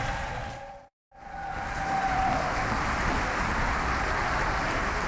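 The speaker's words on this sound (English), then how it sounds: "Can we do one more round of applause for all of our sponsoring congregations?" A drag revival audience delivers a sustained wash of applause for sponsoring congregations. It is steady and crowd-wide, with a brief silent dropout near the start before the clapping resumes and carries on evenly.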